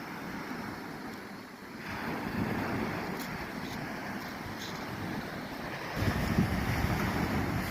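Sea waves wash steadily against the shore beside a beach campsite, a continuous rushing surf with wind noise, swelling louder near the end.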